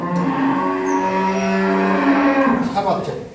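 A dairy cow mooing at a farm of improved-breed milking cows and calves, one long loud, close bellow lasting about three seconds, with rising and falling pitch before it trails off.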